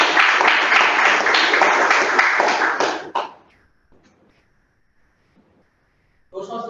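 A round of audience applause at a Toastmasters club meeting, dense steady clapping for about three seconds that stops abruptly, followed by near silence before a voice begins.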